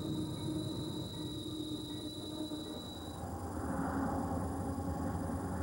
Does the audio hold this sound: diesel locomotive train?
yes